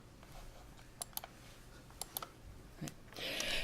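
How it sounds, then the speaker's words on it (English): Computer mouse clicks, a few sharp isolated taps spread across quiet room tone, with a brief rustle of handling near the end. "I keep clicking the wrong one."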